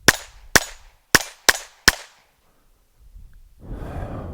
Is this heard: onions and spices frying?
no